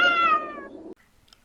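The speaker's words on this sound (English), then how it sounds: "Obligatory cat break." A cat gives one long, loud, close meow that slowly falls in pitch and fades, followed by quiet background shuffling.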